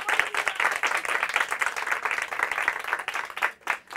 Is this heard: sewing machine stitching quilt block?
no